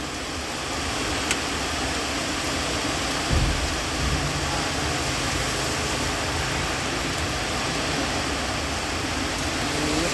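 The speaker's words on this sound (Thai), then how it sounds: "ฝนตกพี่น้องอื้อ" Rain falls steadily outdoors as a dense, even hiss that continues for the whole stretch, with a faint dull knock partway through and no voices.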